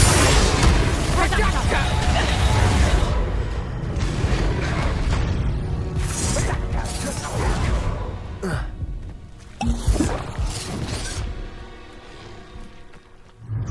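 Confringo blasting spells go off in Hogwarts Legacy combat, a string of booming explosive bursts and crackles over dense game noise and music, with voices talking over the action.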